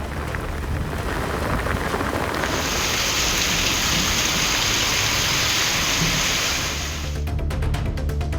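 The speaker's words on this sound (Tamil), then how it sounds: "புதுக்குடி, கருங்குளம், செய்துங்கநல்லூர் பகுதிகளில் சூறைக்காற்றுடன் கூடிய பலத்த மழை பெய்தது" Heavy rain with strong wind pours down steadily in Tamil Nadu, a loud, dense hiss that grows brighter and harsher midway, with a low rumble underneath and no voices.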